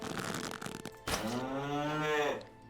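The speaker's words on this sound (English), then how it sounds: "Maybe we'll try with this cow." A cow in the video game Animallica gives one long, loud moo with a rising then falling pitch, preceded by faint game ambience.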